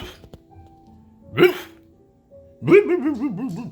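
A person imitates a dog with their voice, giving a short yelp and then a longer, wavering bark-like howl, loud and close against near silence.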